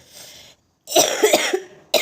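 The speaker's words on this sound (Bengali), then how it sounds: "ভীষণ কাশিটা একদমই কমে না গো, কাশিটা উঠলে পড়ে না" Two bursts of harsh human coughing at close range, a short cough, a pause, then a longer rough fit of several coughs from someone with a persistent cough at home, with no talking.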